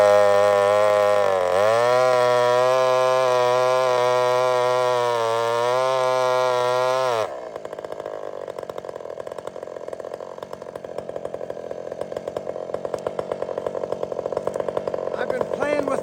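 Husqvarna 572 chainsaw bucking a big sycamore: loud, steady high-revving engine whine for about seven seconds, then a drop to a rougher, rattling lower idle-like drone.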